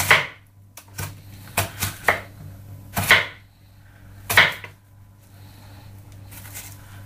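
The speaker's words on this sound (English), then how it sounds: "To finely chop an onion, just small slices, make them as close to each other as you can." A knife chops an onion for a Thai red chicken curry, sharp crisp slices hitting the board in irregular bursts of one to three quick cuts, close and clear against a quiet kitchen hum.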